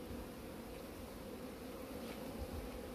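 Honeybees at an opened beehive make a steady, dense buzzing hum that continues evenly throughout, with no voices.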